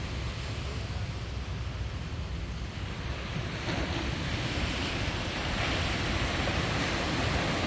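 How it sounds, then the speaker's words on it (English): Ocean waves roar steadily on a beach in the early morning, a loud continuous surf wash with some wind noise on the microphone and no voices. "The waves are roaring."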